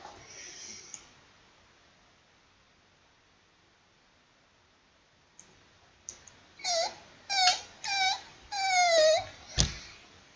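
A person imitates a whimpering puppy with a series of four or five short, high, squeaky whines after a mostly quiet stretch, close and fairly loud, ending with a sharp click.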